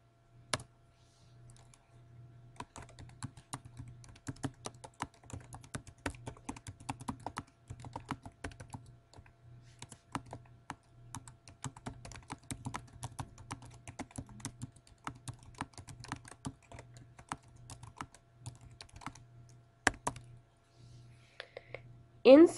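Someone types text on a computer keyboard in quiet, uneven runs of crisp key clicks with short pauses, and a faint low hum sits underneath.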